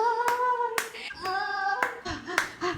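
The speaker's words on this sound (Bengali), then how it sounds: "একটু তো হাততালি দেওয়া দরকার।" A few sharp hand claps ring out close by, spaced irregularly between bursts of a voice, in a domestic setting near a person exercising.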